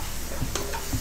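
Tomatoes sautéing in a pan for a Chennai-style Bombay chutney, a short burst of close sizzle with a couple of quick stirring scrapes over a steady hiss.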